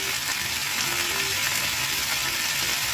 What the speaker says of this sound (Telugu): ఈ ఉప్పులో నానబెట్టిన ఈ ఆకుకూర ముక్కలు ఒక రెండు మూడు సార్లు శుభ్రంగా కడిగి కూరలో వేస్తున్నాను